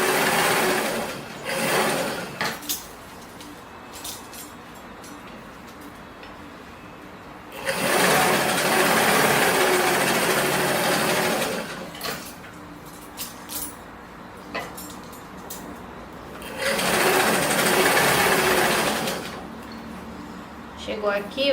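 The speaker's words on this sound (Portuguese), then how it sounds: "Levanta o pé calcador, gira e vamos costurar." Sewing machine running in several long stitching bursts along a skirt hem, with quieter pauses between runs while a voice talks over the work.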